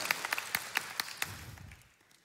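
A church congregation claps briefly, a scattered ripple of hand claps that fades out quickly, heard faint and distant.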